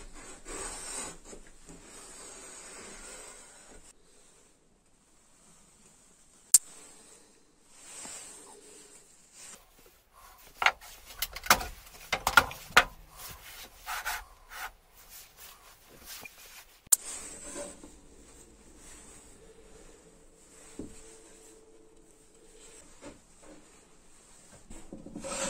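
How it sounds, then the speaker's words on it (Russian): Jigsaw cutting wood along a guide jig, rasping sawing noise that builds in the middle section with sharp clicks, quieter buzzing before and after. "Добиться почти идеального пила можно при помощи и лобзика."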